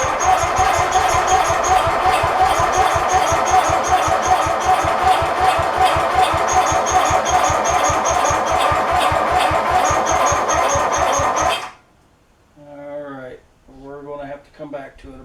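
RED's engine cranks after a fuel-system purge with idle turned down, a loud rapid steady chugging that runs about eleven seconds without catching, stops abruptly, and is followed by voices talking.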